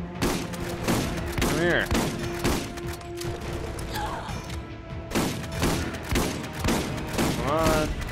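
A turret and gunfire in Borderlands, with repeated loud bursts of shots spaced through the stretch and a voice speaking briefly between them.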